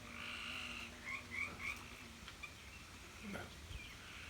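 Tree frogs croak and trill faintly in a rainy rural outdoor setting near water and trees, a steady low chorus with a few brighter chirps over background hiss.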